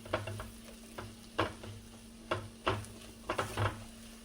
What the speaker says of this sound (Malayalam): നമുക്ക് മല്ലി തന്നെ നമുക്കൊന്ന് വറുത്തിട്ട് കുരുമുളകും മല്ലി